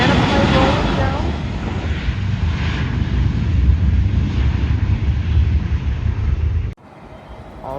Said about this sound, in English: Banana plane rolling down.